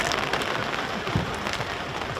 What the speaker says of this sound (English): and still the rain comes down.